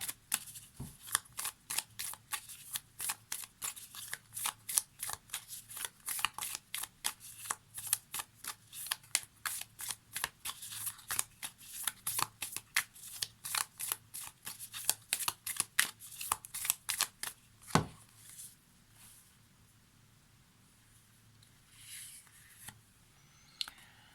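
Oracle cards are shuffled by hand in a fast, steady run of soft riffling flicks, close and fairly quiet, for most of the stretch. The shuffling then stops abruptly and leaves faint, sparse handling sounds.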